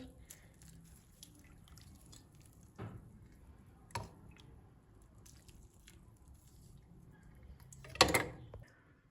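Sugar syrup is poured over crispy baked kadayif dessert, giving soft wet dripping and splashing with a few brief louder bursts, the biggest near the end, over a quiet background.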